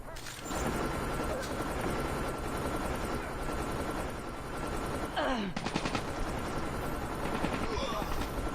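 Gunfire from the video game Call of Duty Mobile: sustained loud automatic weapon bursts and explosive rattling fill the mix, with a player talking over the game sounds.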